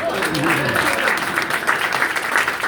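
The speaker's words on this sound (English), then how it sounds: "we're gonna clap for you" A town hall audience in Jackson County claps, a full, steady wash of many hands with a voice briefly audible underneath near the start.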